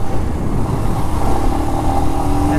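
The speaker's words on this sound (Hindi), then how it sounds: "This you can do gear matching, yeah, rev matching on this motorcycle as well, which I am right now doing." A Royal Enfield Scram 411 single-cylinder motorcycle engine thrums loud and close while being rev matched, its pitch rising as the throttle blips during a ride.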